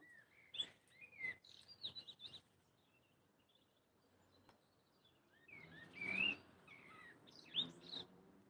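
A blackbird sings outdoors in clear, fluting phrases with chirps, in two separate bursts broken by a pause, moderately near against quiet background patter.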